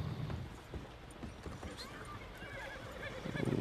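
A horse in the Western video game Red Dead Redemption 2 whinnies, with hoof clip-clops and game ambience around it, fairly close and clear.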